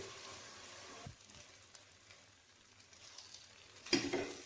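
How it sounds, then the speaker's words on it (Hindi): Mutton pieces being browned in a pan give a soft, steady sizzle with occasional stirring scrapes, faint and continuous, with a louder clatter near the end. "अब इसके अंदर मीट डाल दें और इसको भूनना है ताकि कच्चापन खत्म हो जाए गोश्त का भी"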